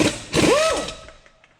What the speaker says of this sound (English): I'm actually going to use our air impact